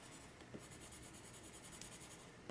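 A pencil presses hard against paper while shading, giving a close, soft, continuous rubbing scrape with a couple of slightly sharper strokes.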